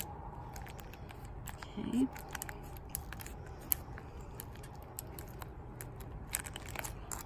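Blade slowly cutting through the damaged top of a Madagascar palm, a series of soft, close crunching and crackling snips spread across the clip over low background noise, with a brief spoken word.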